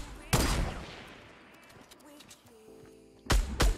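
Gunfire in the game Fortnite: a loud burst near the start that decays slowly, then two more sharp rapid bursts near the end, with game noise in between.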